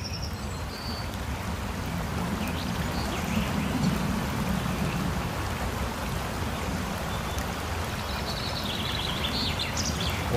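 Water from the multi-tiered Khao Noi waterfall rushes steadily in a forest setting, a constant broad hiss, with faint bird calls and light rustling over it.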